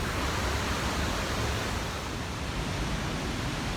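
The lower Greeter Falls, a waterfall of about 70 to 80 feet, gives off a steady, broadband rushing roar that stays loud and close the whole time, with no voices.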